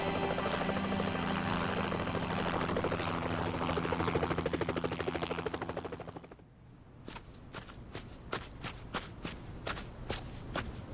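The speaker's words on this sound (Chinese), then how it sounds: "醒醒，直升机来了" A military helicopter arrives with a loud, steady, pulsing rotor roar for about six seconds. The roar then drops away into a run of sharp, evenly spaced bangs like gunfire.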